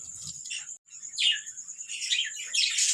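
Budgerigar chicks and adult birds in a nest-pot colony make bursts of high, thin chirps and twitters, clustered and close, with brief gaps between calls and no talking.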